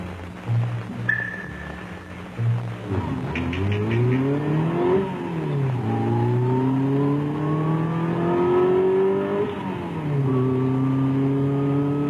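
A Honda engine running in a 1960s test facility, its pitch sweeping up and down through several rising and falling revs over a low steady drone, loud and close with no talk.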